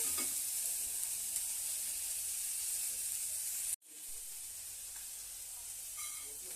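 Coriander seeds frying in a pan: a steady, dense sizzle and hiss with light stirring that cuts out abruptly for a moment, then resumes at a slightly lower level.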